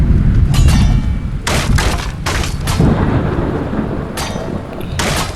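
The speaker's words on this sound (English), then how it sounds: "It's starting to rain." Rain pours steadily while loud cracks and rumbles of thunder break through several times, sharp and close, in the video game Skyrim.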